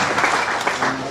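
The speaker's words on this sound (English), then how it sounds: "Please give a round of applause." Audience applause at a formal ceremony, a dense wash of clapping hands that stays fairly loud and even through the short stretch, with no voices over it.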